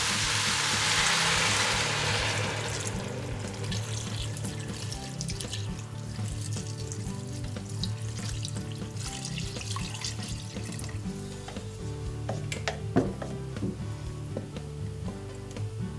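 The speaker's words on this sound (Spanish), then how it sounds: "y cubrimos con agua." Water pours into a cooking pot over chopped leek and potatoes for a vegan porrusalda, loud and splashy for the first couple of seconds, then fading into a softer wash under background music.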